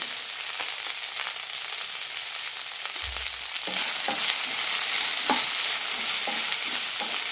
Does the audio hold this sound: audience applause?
no